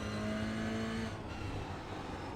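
A Toyota GR86 race car on the Indianapolis road course in iRacing drones loudly in a steady engine tone that drops in pitch as it downshifts toward second gear while braking.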